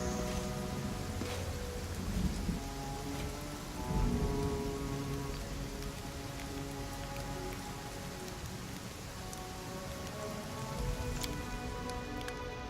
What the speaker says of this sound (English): Sleeping in the rain.